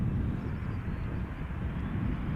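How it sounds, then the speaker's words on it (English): A KLM Embraer 175 airliner arriving at Schiphol from Stavanger gives off a steady, low engine rumble, continuous and moderately loud, with no speech over it. "This is KLM flight 1198, arriving from Stavanger, Embraer 175."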